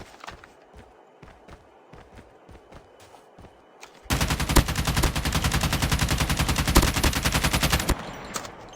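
Rapid automatic gunfire in Call of Duty Mobile Battle Royale bursts loud and continuous for about four seconds, following quieter scattered shots and footsteps, with faint voices around.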